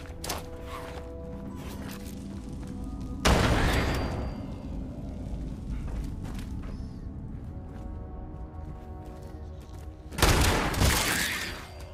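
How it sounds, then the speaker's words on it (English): Grenade blasts in the video game Fallout 76, two loud, broad booms several seconds apart, each rolling off slowly, set over a quieter game soundscape with faint tonal music. "throw a grenade"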